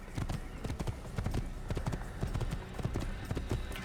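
A white horse's hooves gallop in a video game with a steady, rapid clip-clop of many close, loud strikes that continues throughout.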